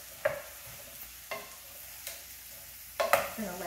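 Mushrooms cooking in a pan with Marsala, a low simmering sizzle broken by a few sharp scraping stirs and clinks of a utensil against the pan, close and fairly quiet, with no speech.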